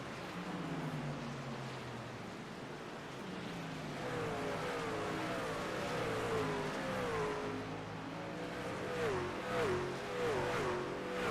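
Race truck engines in a racing video game, a pack of engines droning and rising in pitch as they pass and rev, layered whines sweeping up and down at moderate volume.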